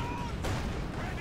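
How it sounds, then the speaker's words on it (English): A bundle grenade explodes in the World War II strategy game Company of Heroes 2: one sharp, loud broadband blast about midway, set against a constant rumble of battle and gunfire. "Throw the bundle grenade!"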